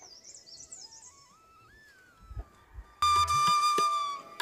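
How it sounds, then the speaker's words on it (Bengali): Birdsong in a hilly forest around a homestay in Rampuria, North Bengal: thin whistled calls and gliding notes at first, then a louder burst of bright, overlapping bird calls near the end. "এই যে পাখির ডাক শুনছেন"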